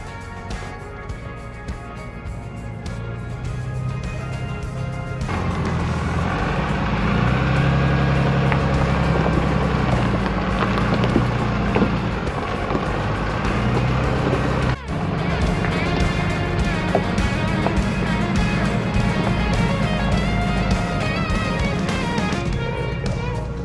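A four-wheel-drive vehicle engine drones steadily from inside the cab while driving on a rough road, the load deepening partway through, with road rumble and occasional knocks; a voice talks over it at times.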